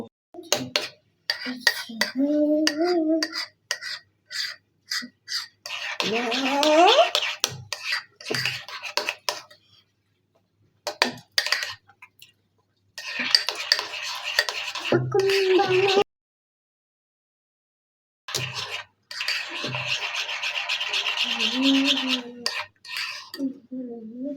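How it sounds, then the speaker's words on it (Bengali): Spoon stirring mayonnaise and tomato sauce together in a bowl, repeated scraping and clinking of metal against the dish in bursts, close by, with someone talking in between. "আমার মেয়োনিজ এবং টমেটো সস একসাথে মিক্স করা হয়ে গিয়েছে।"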